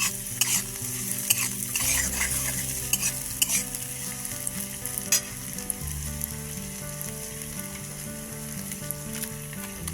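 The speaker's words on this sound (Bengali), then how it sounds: "এইভাবে এটাকে ভালোভাবে একটু হালকা করে মানে ভেজে নিতে হবে, খুব বেশি ভাজা চলবে না।" Cauliflower pieces lightly fry in a pan for cauliflower chili, a steady close sizzle with frequent scraping stirs of a utensil against the pan and no talking.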